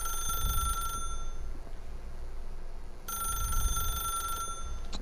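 A telephone in The Stanley Parable video game rings in two bursts of a trilling electronic bell separated by a pause, with a low room rumble underneath and no talking.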